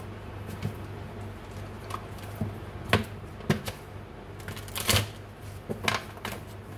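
Tarot cards shuffled and drawn from a deck, giving scattered soft riffles, slaps and flicks at close range over a steady low hum, with no talking.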